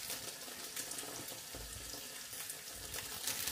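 Salad washed under a running kitchen tap, a steady close hiss of flowing water with soft splashing and shifting, fairly faint, with no talk.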